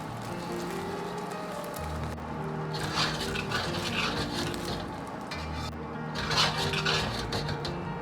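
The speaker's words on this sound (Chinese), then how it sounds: "再翻面煎另一面" An egg pancake fries in a wok and is flipped, a continuous close sizzling hiss with light metallic clinks and scrapes from the spatula, swelling louder twice as it is turned.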